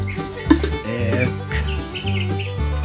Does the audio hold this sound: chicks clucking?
yes